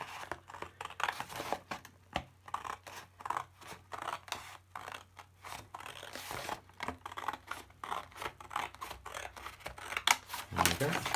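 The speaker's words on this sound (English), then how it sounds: "I'm going to take care to cut on along this line accurately" Scissors cut a paper net along a marked line, making a run of quick crisp snips and rustling paper sounds close by at an even, steady pace.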